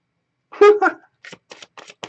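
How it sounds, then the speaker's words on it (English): A deck of oracle cards is shuffled by hand: a brief voiced sound comes first, then a run of short, papery riffling bursts at close range. "So I'm going to shuffle it up again."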